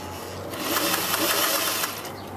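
A sewing machine runs steadily, sewing a collar onto a garment at a 5/8 inch seam allowance, with a close, continuous whirring rattle and no speech.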